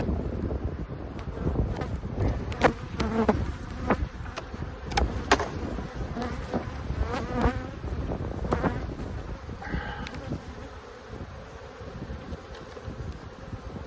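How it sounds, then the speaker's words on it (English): Dense bee buzzing rises from a beehive box being opened and inspected, a steady droning swarm close by with passing individual bees and light wind noise on the microphone. "There's a lot of bees in this box."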